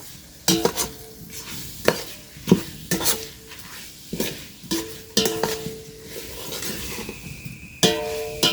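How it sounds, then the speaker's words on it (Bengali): A spoon stirs coconut milk being cooked down in a pot for katla fish coconut korma, giving repeated scraping strokes against the pot over a soft simmering sizzle, near and steady with no talk. "তেলটা না ভাসে ততক্ষণ কিন্তু নাড়ায় দাঁড়িয়ে হবে তা নাহলে কিন্তু এই দুধটা তলে লাগিয়ে গেলে পুড়ে যাবে"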